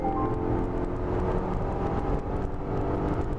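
Volvo XC90 T8 plug-in hybrid with an eight-speed transmission accelerating, heard from inside the cabin as a steady, moderately loud engine drone and road hum with no talk over it.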